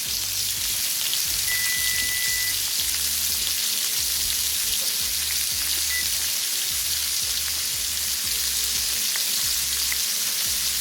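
Separated onion rings fry in leftover hamburger-steak grease, a loud, dense, continuous sizzle with faint stirring, close up and without speech.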